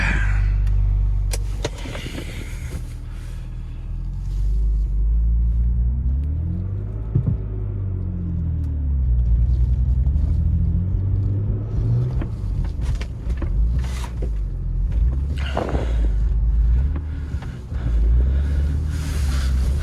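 An idling car engine, fired up on a Minnesota winter project vehicle with a limited slip differential, rumbles steadily while warming up, close and fairly loud, with occasional clicks and clunks over the low drone and no talk.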